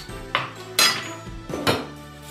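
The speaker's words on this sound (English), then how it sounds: "So now I'm using my spatula. I just want to make sure everything is well mixed" Spatula scraping and knocking against a mixing bowl while cake batter is mixed for a colourful Ghana cake, with a few sharp clinks and thuds among softer scraping, close and fairly loud.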